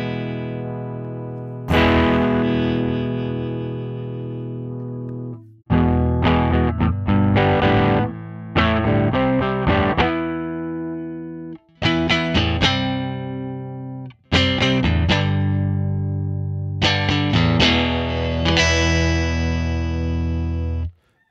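A Fender Jaguar Classic Player Special HH electric guitar, played through distortion, strums loud sustained chords in several separate bursts, each ringing out and fading, its tone shifting from darker to brighter as the tone knob is turned.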